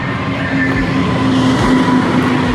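A train passing in Panama, a loud steady rumble with a sustained tonal hum and rhythmic low thumps of wheels rolling by close.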